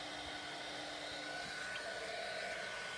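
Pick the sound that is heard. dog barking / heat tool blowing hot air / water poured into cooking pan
heat tool blowing hot air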